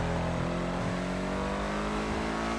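Benefactor Schlagen GT sports car in Grand Theft Auto 5, its engine droning steadily and revving up slightly while it is driven, loud, close and continuous, with no talking.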